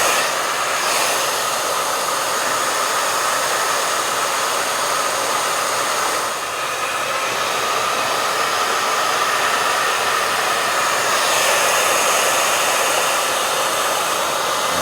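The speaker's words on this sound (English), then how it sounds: "I noticed that these ones are easier to get off with the hair dryer." A hair dryer blows with a continuous loud whooshing roar, steady throughout with slight fluctuations in pitch.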